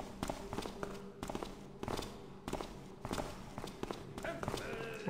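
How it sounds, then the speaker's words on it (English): Loud footsteps in the stealth video game Thief, a steady run of heavy, close treads thudding one after another over a murmuring background, with a short bright clatter near the end. "All I can hear is just loud footsteps and drunken singing."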